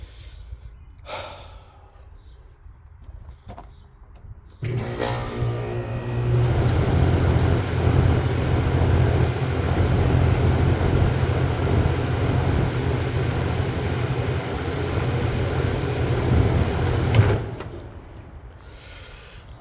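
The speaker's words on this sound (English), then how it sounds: "Let me hit this button and see if it rotates the motor." A Rheem central air conditioning unit's fan motor starts abruptly and runs as a loud, steady whirring drone for about thirteen seconds, then cuts off sharply.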